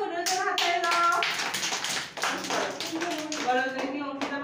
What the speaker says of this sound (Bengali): ওদের হাততালি দাও